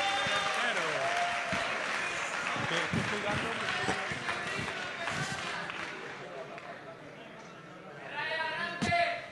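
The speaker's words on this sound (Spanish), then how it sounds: "Un aplauso para Piti." Applause for Piti as he comes up to hand over a prize at a university tuna music competition awards ceremony, clapping mixed with crowd chatter and nearby voices, swelling again briefly near the end.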